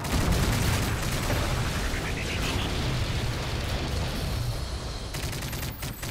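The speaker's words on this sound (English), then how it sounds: "Friendly Predator missile inbound." Predator missile strike amid gunfire in the video game Modern Warfare 3, a dense, continuous roar of rapid shots and blasts filling the scene with game voice callouts over it.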